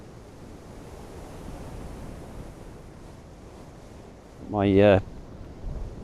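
Strong wind buffets outdoors on a cold day in Cornwall, a continuous rushing roar across the microphone, with a brief spoken word late in the clip.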